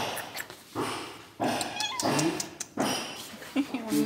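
A small female cat meows repeatedly at close range, several drawn-out, wavering cries separated by short pauses, set in a home where a wall and bathroom are being torn out.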